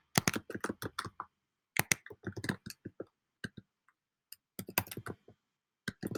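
Computer keyboard keys clatter in quick bursts of close, crisp clicks, with short pauses between runs of typing and no other sounds.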